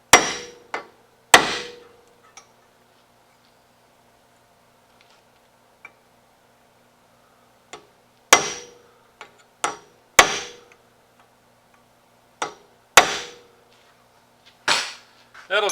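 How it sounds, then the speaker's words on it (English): Sharp metallic hammer strikes staking axle nuts on a Nissan Pathfinder, in short bursts, a pair near the start and several spaced clusters later, each ringing briefly against a quiet background. "I'm going to get a hammer and I'm going to stake each one of the axle nuts."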